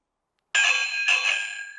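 Loud electric bicycle bell from Temu, a single shrill electronic ring that sounds twice in quick succession after a moment of silence, close and piercing.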